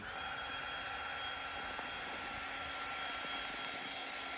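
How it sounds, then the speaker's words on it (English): A Milwaukee heat gun blows continuously nearby while heating a curved Perspex roof window, giving a steady, even fan-and-heater hiss with no pauses or voices. "A Milwaukee heat gun, which isn't that hot, apparently."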